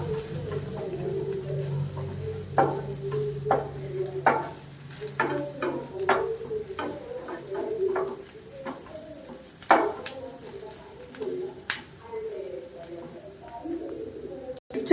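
Boiled eggs frying in a pan with coriander powder for egg curry, giving a steady soft sizzle broken by scrapes and knocks of stirring, with birds cooing in the background.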